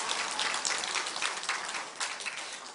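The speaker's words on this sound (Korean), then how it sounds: "다시 한번 감사합니다 하고 박수 한번 칩시다" A church congregation applauding during a Sunday service, a soft, even patter of many hands clapping at a distance, without voices.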